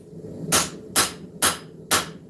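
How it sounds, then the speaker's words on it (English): A hammer forges down the spine of a steel knife on the hump of an anvil, striking four sharp, evenly spaced ringing blows close up. "I'm using the anvil on that little hump and I'm forging down on the spine of the knife."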